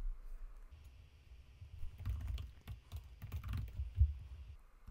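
Close, soft typing on a computer keyboard: a few scattered key taps, then a quick flurry of clicks in the middle, with a quiet room hum throughout.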